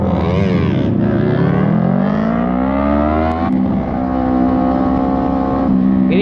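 Modified Yamaha R15 sport motorcycle with a loud aftermarket exhaust riding on the road, a steady droning engine note that climbs in pitch as it accelerates, then shifts and holds at a high buzzing pitch, loud and close throughout.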